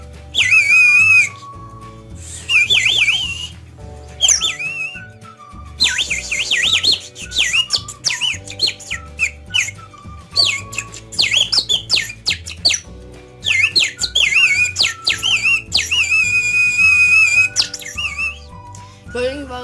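A water-filled toy bird whistle blown into, giving loud, warbling, bird-like chirps and trills in bursts separated by short pauses, over a steady low background hum.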